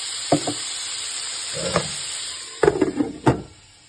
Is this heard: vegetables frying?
yes